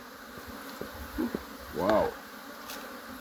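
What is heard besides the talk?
bees buzzing during a beehive inspection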